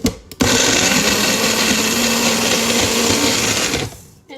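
Electric mixer whirring steadily through cinnamon chaffle batter thick with cheese, a loud continuous motor drone lasting about four seconds with a click at the start and a quick wind-down.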